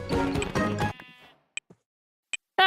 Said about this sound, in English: Woo, sheep.